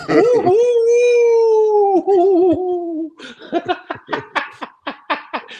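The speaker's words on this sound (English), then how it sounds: "The wolves are howling." A wolf howl: one long, sustained, wavering cry that gradually falls in pitch, followed by a stretch of loud, choppy laughter.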